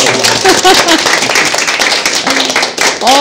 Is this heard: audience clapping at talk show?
yes